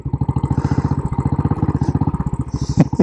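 A Royal Enfield Classic 500 Military motorcycle engine thumps close by in a fast, even single-cylinder beat, steady and loud for a few seconds.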